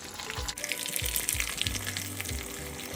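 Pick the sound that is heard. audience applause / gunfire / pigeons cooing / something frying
something frying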